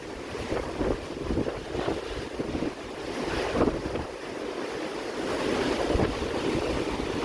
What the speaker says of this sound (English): And just listening to the waves.